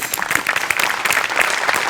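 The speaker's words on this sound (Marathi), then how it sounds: "सगळ्यात आधी तर सचिन मोठ्यांसाठी जोरदार टाळ्या." A studio audience at a Marathi comedy show bursts into dense, lively clapping that stays steady and close throughout, with no distinct voices above it.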